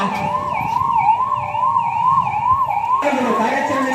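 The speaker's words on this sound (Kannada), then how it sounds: "ಆರೋಗ್ಯ ಇಲಾಖೆಯ ಆಂಬುಲೆನ್ಸ್ ಬಂದಿದೆ" A health department ambulance's wailing siren rises and falls in steady cycles during a police mock drill for a terrorist attack in KGF, loud and close, with traffic rumble underneath and the tone shifting near the end.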